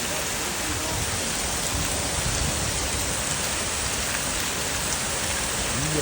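Heavy rain pours down in a steady, dense roar of broadband noise, close and unbroken throughout with no voices.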